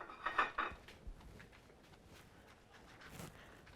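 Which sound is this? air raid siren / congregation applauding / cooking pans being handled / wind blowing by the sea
cooking pans being handled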